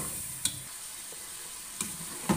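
Masala with chillies frying in a pan, a soft steady sizzle with a few sharp clinks of a spoon stirring at intervals.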